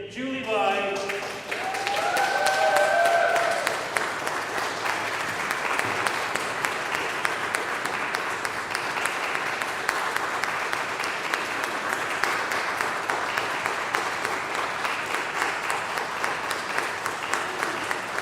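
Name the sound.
audience applause for musicians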